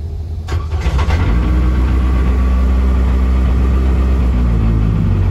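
A Vauxhall Cavalier GSi classic touring car engine cranks briefly, catches within a second and settles into a steady, deep, close idle rumble.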